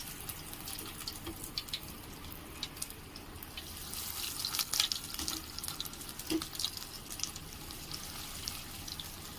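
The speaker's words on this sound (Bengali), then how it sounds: "আস্তে আস্তে ভেজে নেব। এটা আমি একদম লো ফ্লেমে রেখেছি" Egg cutlet frying in hot oil over a very low flame, giving a soft, steady crackling sizzle that stays faint and even throughout with a few slightly brighter pops, and no one speaking.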